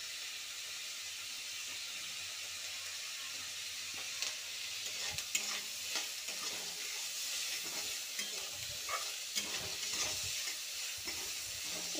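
Chopped onion and tomato, salted, fry in a pan for a Bengali fish curry, producing a steady soft sizzle with light intermittent stirring scrapes that pick up later on and no talk.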